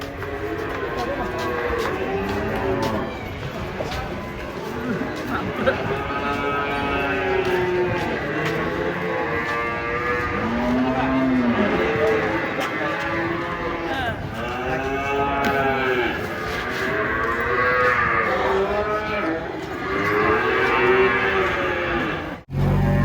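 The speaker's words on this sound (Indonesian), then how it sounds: "Dan datang sapi raksasa guys." Giant Limousin cattle low and moo repeatedly as they come off a fully loaded truck, the long harmonic calls overlapping and close throughout, with voices talking faintly in the background.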